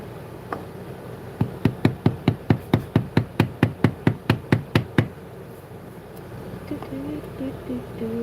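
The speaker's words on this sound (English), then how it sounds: "definitely using the lighter hammer for this one because we want to be gently tapping and walking the tool along that cut line" Light hammer tapping a textured bevel tool along a cut line, likely in leather, with about fifteen crisp, evenly spaced taps in a steady rhythm, close, then quieter handling noise.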